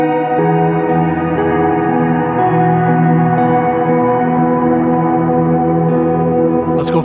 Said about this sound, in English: If I crank up the feedback,